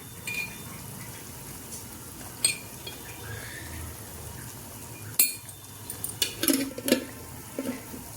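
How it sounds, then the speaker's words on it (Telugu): Tamarind pulp added to a pan with sizzling mustard seeds, giving a low steady frying hiss with scattered utensil clinks and scrapes that sharpen into a cluster of clatters toward the end. "ఇప్పుడు ఈ చింతపండు గుజ్జు వేసేసుకుందాం"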